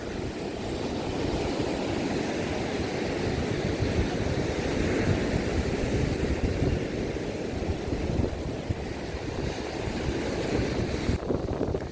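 Continuous wash of Black Sea waves breaking and rolling in at Odesa, a steady broadband roar with some wind buffeting, no voices.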